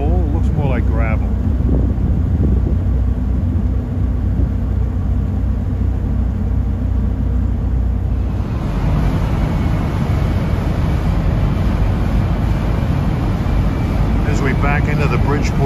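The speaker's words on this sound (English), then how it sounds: "you can hear that General Motors unit working on this ferry" A steady low drone from a ferry's turbocharged General Motors diesel engine near the Bridgeport dock, with heavy rumble and wind noise, growing louder and fuller halfway through.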